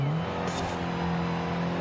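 A 1970 Datsun 510 in Forza Horizon 5 hums along with a steady, low engine drone that rises slightly in pitch, continuous and fairly loud throughout.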